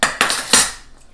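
A spoon clinks and scrapes around a crockpot of taco soup, three quick stirring bursts close by before the sound trails off, with no talking.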